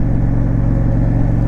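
A 2003 Honda Shadow 750 with a liquid-cooled 750cc V-twin engine idles close by, a low, steady, rumbling throb that stays even for a brief moment with no talking.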